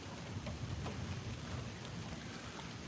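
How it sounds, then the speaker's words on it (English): Steady rain during a summer thunderstorm on a front porch in Tulsa, Oklahoma, a dense, continuous hiss of drops at fairly close range with no voices. "Man, these are some big raindrops, guys."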